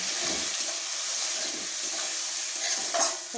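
Salt, turmeric, cumin and chilli powder mixed into a frying pan, a steady bright sizzle with scraping stir strokes running throughout, close and alone.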